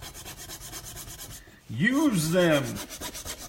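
Hand sanding or filing a wooden model, heard as a run of quick, even rasping strokes, then a louder, longer rub that overlaps a short spoken phrase.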